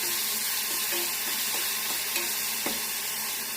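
A ground paste of green chilli, coriander and salt fries in a pan with a loud, constant sizzle, plus a few soft stirring knocks, close up and without speech.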